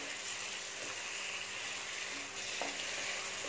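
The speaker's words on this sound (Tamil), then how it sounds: "இது கொஞ்ச நேரம் ஃப்ரை ஆகட்டும்." Chicken pieces seasoned with pepper fry steadily in a pan for Chinese-style fried chicken, giving a continuous, even sizzle with faint stirring scrapes throughout.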